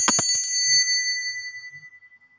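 A bell is rung to open a tarot reading: a bright metallic strike, quickly repeated, then a clear ringing tone that fades away over about two seconds, alone and close.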